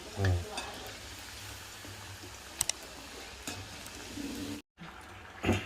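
Gavvalu, a spicy Telugu snack of shaped dough, frying in hot oil over a low flame, giving a steady dense sizzle and bubbling with a few sharp pops and a brief break near the end.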